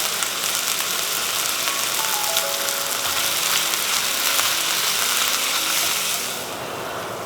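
Steak strips sizzle steadily in olive oil in a hot pan, a loud, continuous crackling hiss that holds for several seconds before easing slightly at the end, with no talking.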